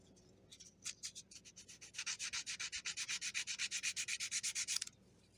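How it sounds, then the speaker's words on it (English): Sandpaper rubbing on a piece of birch wood, a fast run of rhythmic scratchy back-and-forth strokes that starts sparse and settles into a steady, close, fairly quiet rasping, with no voices. "pick up a piece of sandpaper and go to town on a piece of birch for a while"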